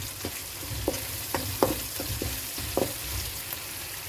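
Onions sauté in a pan for an okra masala, a steady soft sizzle broken by several sharp scraping clinks of a spatula stirring, close and fairly quiet.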